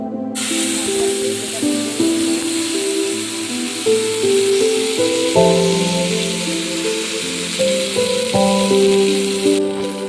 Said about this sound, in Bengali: এবার ভেজে রাখা এই তেলের মধ্যে দিয়ে দিচ্ছি